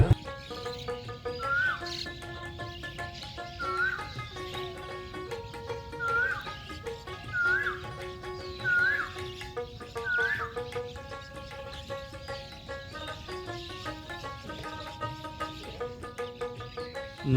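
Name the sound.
birds chirping in riverside trees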